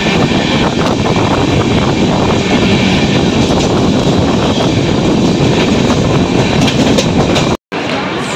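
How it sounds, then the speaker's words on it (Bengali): A passenger train pulls into Bardhaman Junction on the Kolkata to Ayodhya run, giving a loud, steady rolling rumble with faint wheel clatter that holds nearly the whole time before a brief dropout near the end. "আপাতত আমাদের ট্রেন বর্ধমান জাংশনে এসে পৌঁছালো"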